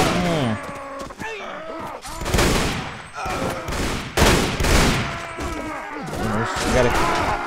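Dense, chaotic battle noise from Mount & Blade Warband with The Red Wars mod, gunfire crackling amid shouts and groans of fighters, while a player speaks and exclaims over it.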